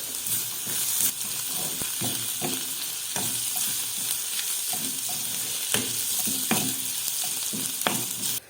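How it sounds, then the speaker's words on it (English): Onions with pimento and cinnamon fry in a pan on low heat for Palestinian maqluba, a steady close sizzle and hiss broken by repeated scraping stirs of a utensil. "half tablespoon of cinnamon. And I keep stirring on low heat."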